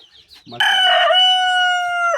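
A single loud rooster crow rings out close by from a Kienyeji chicken in a backyard flock, a long drawn-out call after a brief rustle.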